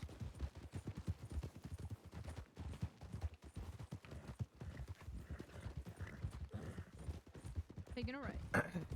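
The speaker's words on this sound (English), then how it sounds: "Picking it up to a canter." Horse hooves clip-clopping at a canter in the Wild RP video game, a steady rhythmic patter running under near-constant talk from a player throughout.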